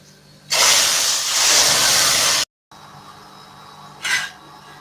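Hot fat with garlic is poured onto cooked lentils, setting off a loud, close, broadband sizzle that holds for about two seconds, then cuts off, with a quieter hiss continuing and a short second flare of sizzling near the end.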